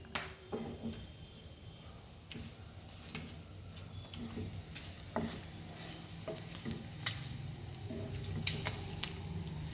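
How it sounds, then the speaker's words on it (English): Pork for Goan green masala sorpotel fries in a pan with a steady sizzle, punctuated by intermittent clicks and scrapes of stirring; a faint voice is briefly present. "Okay, so I will fry it little bit more"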